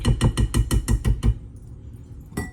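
A fork clinks rapidly against a bowl while folding egg whites into Brussels wafel batter, a quick run of about eight regular taps, then a pause and one last tap.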